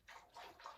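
A dog laps up water indoors, three soft, wet slurping laps in quick succession, faint and close with no voices.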